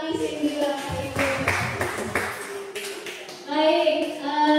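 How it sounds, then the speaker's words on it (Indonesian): An audience of teachers at a school training session claps for Miss Cindy in a short burst of scattered hand claps lasting about a second, and then a voice speaks. "Baik, tepuk tangan dulu sama Miss Cindy"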